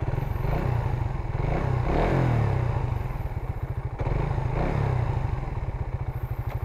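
A Suzuki Raider 150 Fi motorcycle engine, fitted with a new spark plug and ignition coil, idles and revs up and down close to the microphone, a loud rapid pulsing putter that swells with each blip and settles back.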